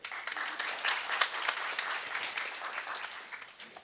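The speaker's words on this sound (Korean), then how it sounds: "한 박수 한번 쳐주세요" Audience clapping at a university-life talk concert, a brief round of distinct hand claps rising quickly and tapering off over a few seconds, moderately faint.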